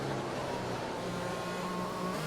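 F1 cars on the formation lap at Monaco in F1 2020, a steady loud engine drone holding a constant pitch, heard close and alone without any talking.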